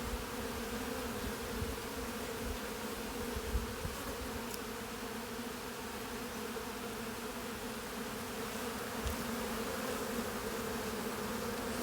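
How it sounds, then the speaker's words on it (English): Honey bees at an open hive drone in a steady, dense buzz, with faint scraping of comb and occasional soft knocks underneath. "I'm going to try and just scrape some of this comb without harming the bees."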